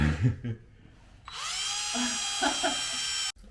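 A power drill whines steadily at high pitch, preceded by a few short clunks and ending abruptly.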